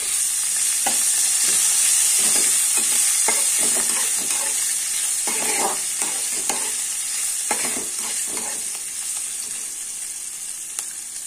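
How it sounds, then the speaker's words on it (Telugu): Coriander and curry leaves fry in a pan as a tempering for okra bajji, giving a steady bright sizzle broken by soft scraping clicks of stirring, with no voices. "అలాగే కొత్తిమీర, కరివేపాకు కూడా యాడ్ చేసేసుకొని మొత్తం అంతా మనం ఫ్రై చేసుకోవాలి"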